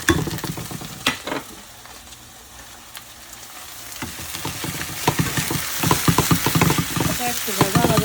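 Cumin, coriander and chili powder fry in a pan with a crackling sizzle and sharp clatter of stirring that grows busier and louder toward the end, with no talking.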